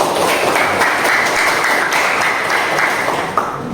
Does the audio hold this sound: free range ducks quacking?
no